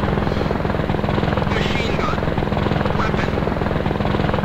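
A helicopter in the Operation Flashpoint game thumps loudly and continuously close by, a dense rotor chop holding steady for several seconds with a voice faintly under it.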